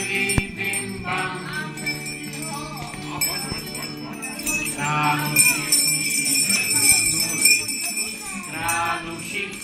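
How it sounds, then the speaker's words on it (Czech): Bells jingle and ring within a Czech Christmas song, mixed with steady music and singing voices throughout. "Na zvonky si zvonili bim bam."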